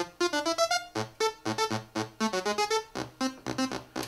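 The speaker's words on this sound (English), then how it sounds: "so it sounds like a sort of dualist oscillator type synth." A simple two-oscillator synth voice plays a bright, buzzy sequence of short staccato notes over a steady pulsing beat, with no talk.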